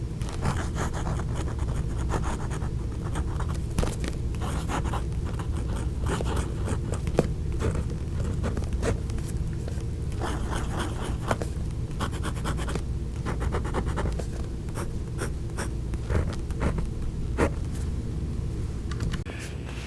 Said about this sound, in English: So I did this writing with the microphone next to the paper